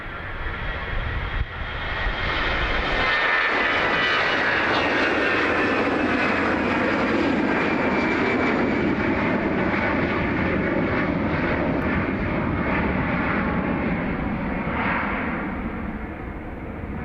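Aircraft engines roar at Dublin Airport as a plane powers up and moves past, a loud, sustained rumble and whine that swells and holds for many seconds before easing slightly.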